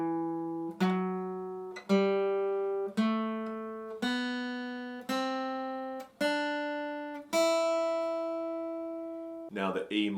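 A guitar climbs the E natural minor scale one note at a time, each plucked note ringing and decaying in a steady, even rhythm, heard alone and close.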